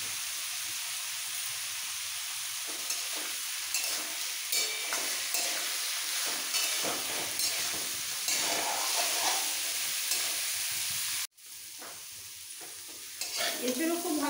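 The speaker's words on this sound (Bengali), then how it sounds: "এঁচোড়ও খুব ভালো করে ভাজা হয়ে গেছে।" Boiled young jackfruit stir-frying in a kadai with salt and turmeric, a steady sizzle with scraping stirring strokes, briefly cutting off and resuming more faintly near the end.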